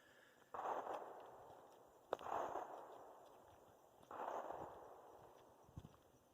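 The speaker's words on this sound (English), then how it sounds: "somebody shooting a gun, probably in their backyard." Gunshots from someone shooting in a backyard near a woodland trail at Panther Creek State Park: three faint, distant reports spaced about two seconds apart, each with a rolling echo over quiet outdoor ambience.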